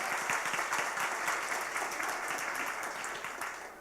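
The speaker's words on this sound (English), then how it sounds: "So everybody, round of applause" An audience at a women's leadership conference breaks into steady, dense applause that fills the room evenly and eases off slightly toward the end.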